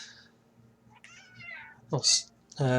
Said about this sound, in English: I do have some upset cats at the minute demanding food